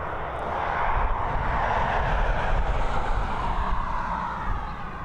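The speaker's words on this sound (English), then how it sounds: "we've got an Airbus A321neo heading over to Munich. LH2519, operated by Lufthansa" A Lufthansa Airbus A321neo jet at Dublin Airport produces a loud, steady engine roar with broad rushing noise that swells and holds, close by and alone.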